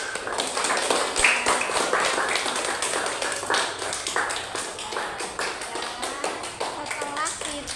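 A class of schoolchildren claps together in a classroom, a dense scatter of overlapping hand claps running steadily for several seconds with voices mixed in underneath.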